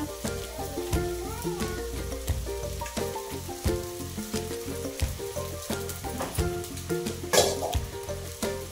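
Sago pearls sauté in a hot pan with a dense, crackling sizzle and frequent close stirring scrapes throughout, loud and continuous with no voices.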